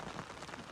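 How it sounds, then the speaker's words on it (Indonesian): Heavy rain pounding steadily on a tent on Mount Agung, a dense, continuous hiss of drops close around with no voices. "Di luar tuh hujannya deras banget sampai tembok kita agak rembes air hujan."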